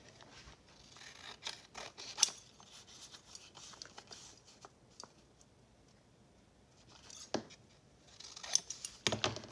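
Scissors cut through a small paper bag to make flip-up tag pockets for a junk journal: sharp, close snips come in short bursts with quiet rustling between them, busiest near the end.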